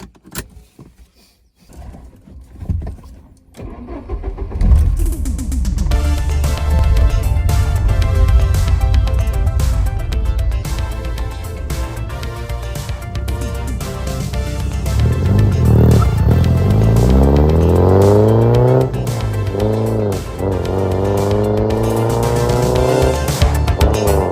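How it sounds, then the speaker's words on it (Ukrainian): After a few quiet seconds, a Porsche 944 engine cranks and catches, then runs loudly with a rough idle and rising revs near the listener. "послухати, як працює двигун"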